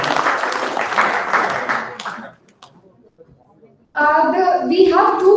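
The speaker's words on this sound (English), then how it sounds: "Please can we have a round of applause?" Applause from an audience at a day of competition events breaks out loudly for about two seconds, then fades to near silence before speech resumes over the crowd.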